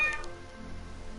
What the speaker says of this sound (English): So he talks to a cat named Sophia.